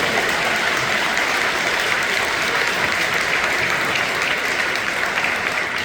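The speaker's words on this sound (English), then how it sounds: "round of applause, please," An audience at a city showcase in a high school auditorium applauds steadily, dense and sustained clapping filling the hall with no voices rising above it.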